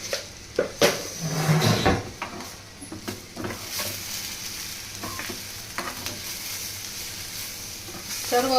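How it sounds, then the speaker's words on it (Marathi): Ghevda beans are sautéed Maharashtrian-style in a pan with medium-coarse crushed peanuts and salt, giving a steady sizzle under scraping, clattering stirs that are loudest early on. "आता ही भाजी चांगल्या प्रकारे एकजीव करून घ्यायची आहे. आपल्याला परतून घ्यायची आहे."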